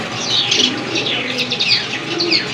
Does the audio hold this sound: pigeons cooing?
yes